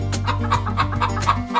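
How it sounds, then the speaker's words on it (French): Hens cluck in a farm henhouse, a run of short, repeated clucks in an uneven rhythm, close and clear, with no talking. "Les poules passent la plupart du temps à l'extérieur."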